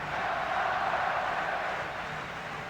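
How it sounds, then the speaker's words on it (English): Hockey arena crowd at a 1978 Stanley Cup playoff Game 7, Maple Leafs at Islanders, roaring and cheering for the Islanders, a steady loud wash of voices throughout with no single announcer. "Crowd starting to root now."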